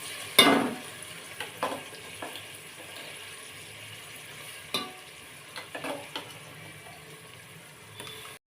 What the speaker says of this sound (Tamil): வாசனை போகிற அளவுக்கு வதக்கணும்